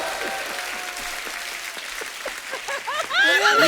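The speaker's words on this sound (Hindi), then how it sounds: "थार के लिए एक बार जोरदार ताली हो जाए" A studio audience at a TV comedy show bursts into applause that swells toward the end, with voices and laughter mixed in over the dense clapping.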